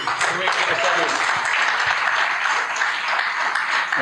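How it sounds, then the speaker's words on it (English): A live audience applauds a speaker at a show, with dense, continuous clapping and possible cheering throughout, loud and close. "So let's give a huge round of applause to Chris Reed."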